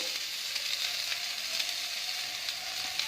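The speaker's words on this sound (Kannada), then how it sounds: "ಈಗ ಇದೊಂದು ಸ್ವಲ್ಪ ರೋಸ್ಟ್ ಆಗ್ತಾಯಿದೆ. ಇದಾಗಿದ ತಕ್ಷಣ ನಾನು ಸ್ಪ್ರಿಂಗ್ ಆನಿಯನ್ ಹಾಕ್ತಾಯಿದ್ದೀನಿ" Ginger roasting in a pan for vegetable soup, a continuous close, even sizzle and crackle with no other sounds.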